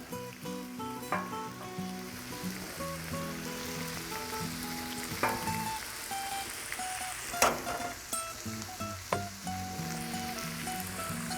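Food sizzles steadily on a Blackstone griddle while breakfast wraps are cooked, with a few sharper scraping clicks and a tuneful music bed running underneath throughout.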